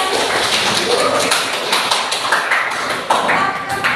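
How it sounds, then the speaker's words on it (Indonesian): A classroom of students claps together in a dense, lively burst of applause that carries on for about four seconds, loud and close, with some voices mixed in. "Oke, kita beri aplaus."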